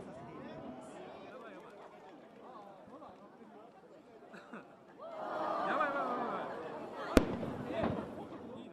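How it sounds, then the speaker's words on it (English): Fireworks set on burning boats at a festival in Yokohama, Japan, crackling and popping in a dense burst that swells midway, with one sharp loud bang near the end, under a crowd's chatter and voices throughout. "all of the fireworks on the boat go off at once"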